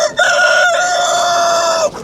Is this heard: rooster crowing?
yes